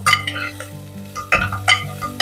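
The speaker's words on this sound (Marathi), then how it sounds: "हे छान फोडणी बरोबर आपल्याला छान हे मिक्स करून घ्यायचंय." Sprouted moong being stirred into a hot tempering of mustard seeds, curry leaves and asafoetida in a pan gives a close sizzle broken by several bursts of scraping and stirring against the metal.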